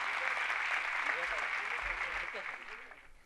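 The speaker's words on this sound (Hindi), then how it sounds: "आप लोग एक बार सम्मान में जबरदस्त ताली बजाकर सम्मान" An assembled audience at a formal gathering claps in honour of a former Governor of Gujarat. The applause is fairly faint and even, with voices running underneath and tapering slightly toward the end.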